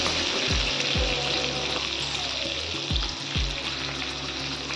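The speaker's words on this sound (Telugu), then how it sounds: "ఇప్పుడు ఆయిల్ బాగా హీట్ అయిన తర్వాత పచ్చిమిర్చి ఆనియన్స్ వేసి బాగా ఫ్రై చేయండి" Green chillies and onions frying in plenty of hot oil, a loud, dense steady sizzle close by, with a few low thumps from the pan, and no voice.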